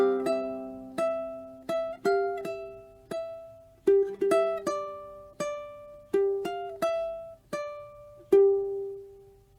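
Fingerpicked ukulele plays a slow bar of a piece, single plucked notes and light double-stops ringing out one after another. Close, clean and quiet, each pluck decays before the next with no talking.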